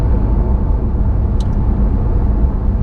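A Porsche 911 GT3 991.2 with a naturally aspirated 4.0 liter flat-six drones steadily from inside the car, a loud, even, low rumble with no talk.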